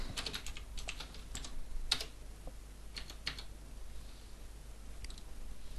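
Computer keyboard typing while writing HTML code, with scattered, uneven clusters of key clicks and a few sharper taps over a steady low room hum, close and moderately quiet.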